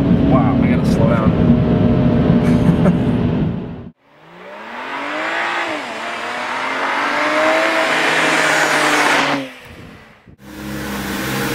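A BMW 335ci engine roars and climbs in pitch as it accelerates hard, loud and close, with a brief drop and a renewed burst of revving near the end.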